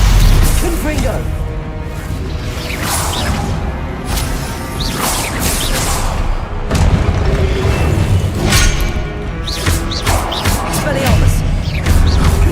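Repeated Confringo blasting-spell explosions in a Harry Potter video game, booming bursts and whooshes in quick succession at loud, close range, with a voice shouting spell names throughout.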